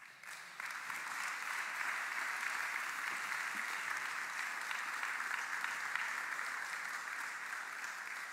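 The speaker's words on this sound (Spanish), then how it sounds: "elevas una generosidad de aplausos al Señor" Sustained, even applause from a church congregation at a Sunday service, rising abruptly after a brief pause and holding as a steady wash of many hands for the rest of the stretch.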